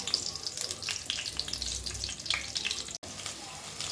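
Eggplant pieces shallow-frying in oil in a pan for Chettinad-style ennai kathirikai kuzhambu, giving a steady, close crackling sizzle that runs without a break and has no talk over it.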